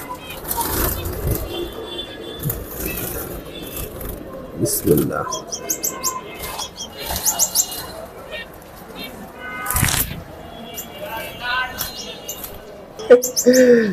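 Isabel finch chicks chirp and tweet in short bursts from close by, mixed with rustling, handling noise and occasional voices.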